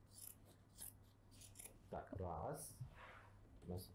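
Scissors cut through folded denim fabric in a few close, crisp snips and a longer rasping cut, faint and intimate, alongside quiet talk.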